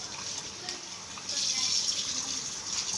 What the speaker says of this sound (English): I cleaned the chicken thoroughly with water.